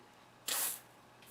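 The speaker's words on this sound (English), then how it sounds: "spray some penetrating oil on it while it's still hot" Penetrating oil sprayed onto a hot, seized piston in a workshop: a single loud, hissing burst of aerosol spray lasting about a third of a second, heard alone in a quiet room with a faint second puff at the end.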